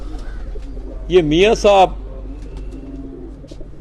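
A rooftop pigeon in Gujrat gives one brief, warbling coo close to the microphone, while someone speaks briefly over a quiet background.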